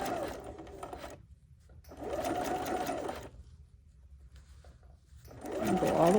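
A domestic sewing machine runs forward and back along a quarter-inch seam, stitching in three close, even bursts separated by brief pauses.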